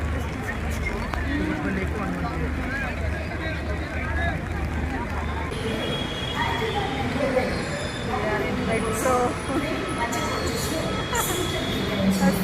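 Inside a moving metro train, a steady rumbling drone of wheels and carriage runs throughout, heard close up as people talk over it.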